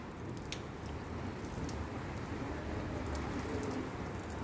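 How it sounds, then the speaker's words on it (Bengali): Rain falling on a rooftop, a steady close hiss of drops with occasional sharper individual splats, continuous throughout and moderately loud. "এখন বৃষ্টি পড়ছে ছাদে।"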